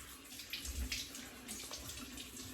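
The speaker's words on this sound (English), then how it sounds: "Hold on, gotta rinse off the alum." A water tap runs steadily into a sink to rinse off alum, a soft continuous splashing heard faint and alone with no talk.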